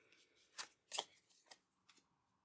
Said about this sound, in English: I'm going to shuffle these cards as well.